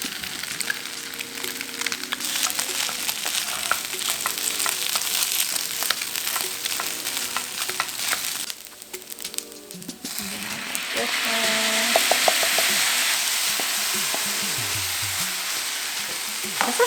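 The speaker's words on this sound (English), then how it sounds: "Then we will add in our rice." Rice being stir-fried in a hot pan for cup ramen fried rice, a loud continuous sizzle with scraping stirs that swells louder toward the end, while a voice speaks over it at times.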